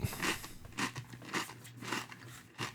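Repeated crisp crunches of chewing, close and fairly quiet, coming in an irregular rhythm of bites with a faint hum underneath.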